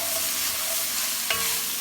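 Garlic is stirred in a pot for minestrone, giving a steady, close sizzle with a brief scraping stir near the end and no talking.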